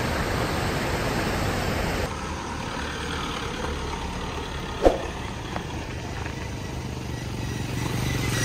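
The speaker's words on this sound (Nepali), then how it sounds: "this is Bhote Koshi river" The Bhote Koshi river in Sindhupalchok, Nepal, rushes in a steady, dense roar that fills the whole scene, with one brief knock partway through.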